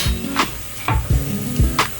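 Whole spices and cardamom sizzle in hot oil while a utensil stirs them, scraping the pan in several distinct strokes over a steady close fry.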